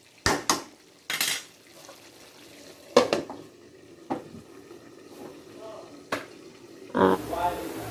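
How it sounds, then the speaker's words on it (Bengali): Ridge gourd curry with shrimp cooks in a pot, with sharp metal clanks of a utensil against the pot, softer scrapes and a faint sizzle between them; a voice is briefly heard near the end. "চিংড়ি মাছ দিয়ে চিচিঙ্গা রান্না করতেছি"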